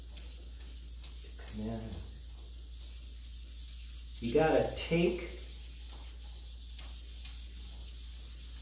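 An oak block with water and a drop of detergent rubs across the finish of an old Steinway piano, giving soft, steady scrubbing strokes with a couple of louder rubbing bursts while a voice speaks briefly.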